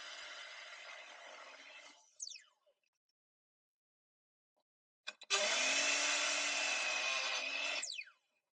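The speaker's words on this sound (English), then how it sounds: "I cut the edges of the timber at a 45 degrees angle." A rented power saw cuts 45-degree angles on the edges of timber in two loud, steady whining bursts, a shorter one at first, then silence, then a louder second cut ending with the blade spinning down.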